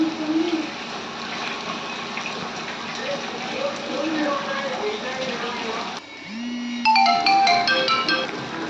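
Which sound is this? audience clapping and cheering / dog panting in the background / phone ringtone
phone ringtone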